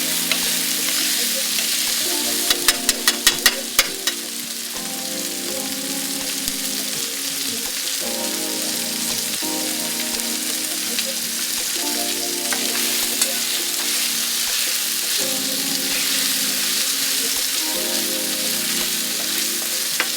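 Tomato sauce fries in oil in a pan with a loud, continuous bubbling sizzle, with a brief cluster of sharp spatters near the start and a steady roar throughout.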